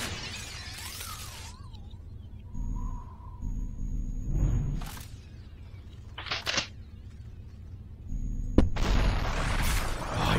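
Gunshots in the SUPERHOT shooter game, several sharp, shattering bursts scattered over the stretch, the last few close together near the end, loud over a quiet, low background hum.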